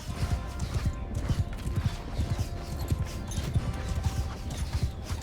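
Horse hooves clip-clop in steady, rhythmic beats in Mount & Blade II Bannerlord, set against a busy battle din with clanks and creaks, and no speech.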